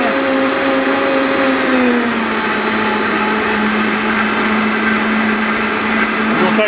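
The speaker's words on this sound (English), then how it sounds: "So I'm blending this stuff up real good in here." A kitchen blender whirs loud and steady, blending salad dressing ingredients for a watermelon cucumber salad, its motor pitch dipping slightly early on and then holding a constant high drone throughout.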